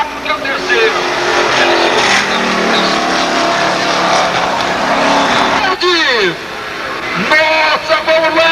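Formula Classic race car at Interlagos in 1988 approaching with a loud sustained engine roar that climbs and falls through gear changes, heard under continuous excited commentary.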